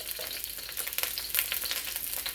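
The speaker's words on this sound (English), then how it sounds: "You want to saute it" Lemongrass, garlic, ginger and scallion sauté in a hot pan with a steady close sizzle and crackle, broken by brief stirring scrapes, with no voices.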